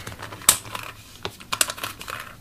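Quick plastic clicks and clacks from a 3x3 speed cube being turned, irregular bursts of close, crisp snaps with brief gaps.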